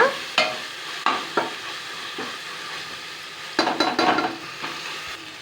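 Masala paste for Ambur biryani sautéing in a pressure cooker: a steady sizzle broken by sharp scrapes and knocks of a spoon stirring, with a cluster of quick stirring strokes later on.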